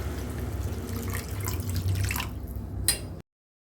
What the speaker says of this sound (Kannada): ಇವಾಗ ಬೆಲ್ಲ ಕರಗೋಷ್ಟು ನೀರನ್ನ ಹಾಕ್ಕೊಳ್ತಾ ಇದ್ದೀನಿ ಇದಕ್ಕೆ